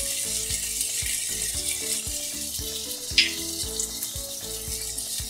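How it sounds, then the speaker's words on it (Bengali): Potatoes with dried chilli fry in oil over low heat as jukti phool bhaja is made. A loud, steady sizzle runs under a regular, rhythmic clatter of stirring against the pan, with one sharp clink midway. "এই সময় গ্যাসটা একদম কম করে আলুটা ছেড়ে দেব।"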